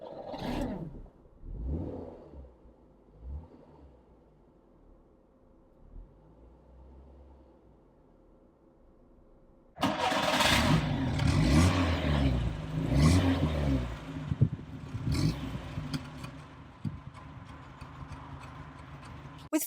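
A Skoda Favorit Blackline with a 1.3-litre engine and five-speed gearbox cranks and starts after some quiet clicking, then idles and revs loudly up close with a rough, steady roar.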